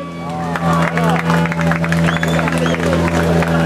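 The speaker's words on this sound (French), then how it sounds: "Applaudir Thierry Neuville." Crowd applause and cheering greet rally driver Thierry Neuville at the Tour de Corse podium finish in Porto Vecchio, loud clapping mixed with babble and a steady engine-like hum underneath.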